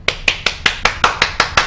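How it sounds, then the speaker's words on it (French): Bare hands clap close by, nine crisp, evenly spaced claps in a steady rhythm, each sharp and bright with a quick decay, with no voices over them. "Quand tu applaudis comme ça, là, tu fais quoi donc après?"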